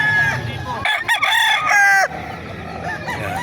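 A rooster at a chicken market crows loudly and close by, its call rising and ending sharply, amid other fowl clucking and crowing around it with market chatter beneath.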